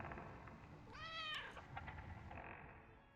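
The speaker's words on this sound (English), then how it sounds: "Oh, black cat." A black cat gives a single drawn-out meow with a rising then falling pitch, heard over steady background sound and a low rumble, followed by faint softer noises.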